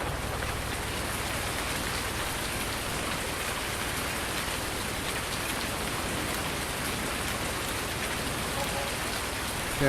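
Rain falling in the video game Farming Simulator 19, a dense continuous hiss of raindrops at steady loudness throughout, heard alone without talking.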